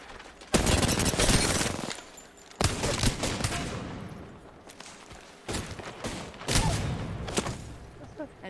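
Shooter video game gunfire: several loud bursts of rapid automatic shots in separate volleys, close and dense, with brief gaps between them.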